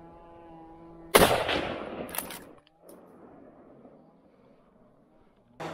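Gunfire on a wild boar hunt, with one loud, sharp shot followed by a long echoing tail, a second shot close behind it, and another blast starting at the very end over faint outdoor ambience.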